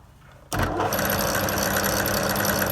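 An angle grinder bites in abruptly and runs loud and steady, turning down a VW Corrado headlight adjuster pin to about 7.5 mm diameter. It gives a sustained whining drone with a gritty edge, and nothing else is heard.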